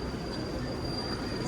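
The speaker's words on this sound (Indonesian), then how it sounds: "Nah itu dia keretanya masuk di jalur 4 dari arah Blitar." Kahuripan passenger train pulling into platform 4 from the Blitar direction, a steady broadband rumble of rolling wheels and carriages with a faint high whine, continuous and fairly close throughout.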